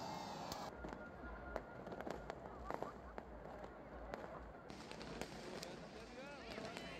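New Year's Eve fireworks at a Car Free Night street festival in Jakarta, a run of sharp distant bangs and crackles under a reporter's continuous narration.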